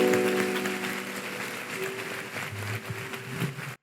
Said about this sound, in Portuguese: Vamos aplaudir o nosso Deus bem forte